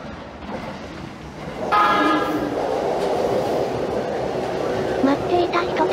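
A green Sotetsu train pulls into a station and rumbles loudly and steadily up close, with a high whine or brake squeal rising partway through above the heavy rolling noise.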